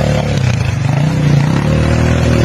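A motorcycle engine that will not shut off runs steadily up close, a low rumbling idle with some rattling and scraping, continuous throughout.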